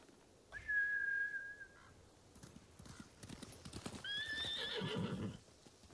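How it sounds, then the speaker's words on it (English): In the video game Ghost of Tsushima, a samurai horse whinnies loudly with a long, high neigh, followed by hoofbeats clopping and a second, layered whinny near the end. "Bastards scared off the horses."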